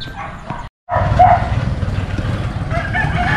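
A dog held by a woman on an uphill road barks in a few short yips, close by and moderately loud, over outdoor background noise with a brief silent gap.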